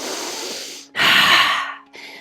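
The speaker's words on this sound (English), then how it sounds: "So you're trying to make that breath as loud as you possibly can." Loud, forceful breathwork exercise: a long noisy exhale, then a sharp strong inhale, then a shorter breath at the end, all close and unaccompanied by talk.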